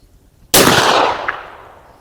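A single loud, close gunshot from a Rossi Brawler firing Grizzly .45 Long Colt ammunition cracks sharply after a brief quiet, then rolls off in a booming echo that fades over about a second.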